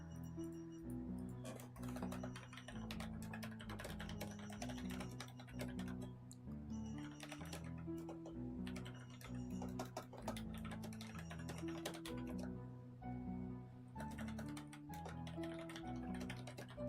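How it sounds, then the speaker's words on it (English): Rapid computer keyboard typing clicks away steadily and fairly faintly under continuous background music, with irregular bursts of keystrokes. "are you guys able to hear my keyboard typing"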